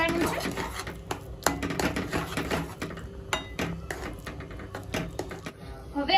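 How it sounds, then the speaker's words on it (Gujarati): Sweet potato sheera being stirred in a pan, a quick run of close metallic scrapes and spoon clinks against the pan, repeating unevenly beneath a voice speaking. "હવે આને આપણે મિક્સ કરી દઈશું અને ગરમ થવા દઈશું અને મિક્સ કરતા રહીશું"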